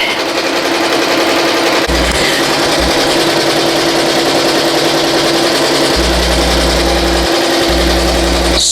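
A BAI Mirror 1501 embroidery machine stitches a design onto a T-shirt with a loud, continuous mechanical drone and rapid needle chatter, its low hum shifting in pitch as it works.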